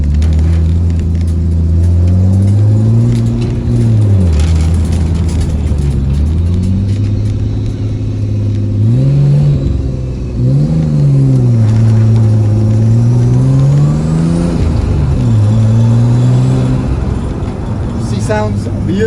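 A slightly rattly Nissan R33 Skyline with its power steering not yet hooked up, driving on a road while the engine revs rise and fall repeatedly, loud and close throughout.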